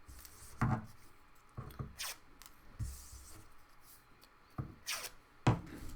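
Paper pieces for a monster craft are being cut with scissors, several short snips and rustles in uneven bursts, close and fairly quiet, with no talking.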